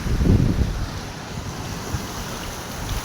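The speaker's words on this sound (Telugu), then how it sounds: "వాటర్ అలా అలుగు వెళ్తుంది" Water pours over the weir of a large village tank, a broad rushing wash mixed with gusty wind buffeting the microphone, loudest at the start and steady after.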